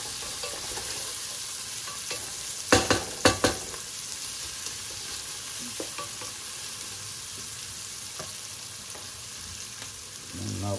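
Chopped garlic frying in oil in a pan as a Portuguese tripe and white bean dish is started, a steady close sizzle with a few sharp scraping stirs of a utensil near the start.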